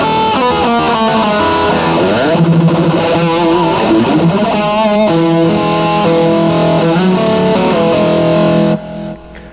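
Dimis Troy Stetina signature electric guitar played with a distorted tone, a loud continuous melodic line of smooth harmonized notes and sustained chords lasting several seconds before cutting off near the end, with no talking.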